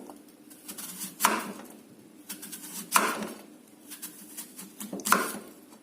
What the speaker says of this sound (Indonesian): sekarang apel sudah dipotong.